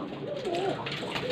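A Rampuri breeder pigeon gives a single short, soft coo close by, a gentle rising and falling warble with light background noise.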